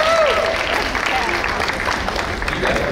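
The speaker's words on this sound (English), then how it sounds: "Just stand, applaud your parents." An audience at a school athletics signing ceremony at St. John's applauds parents, a dense, steady wash of clapping filling the room while someone talks over it.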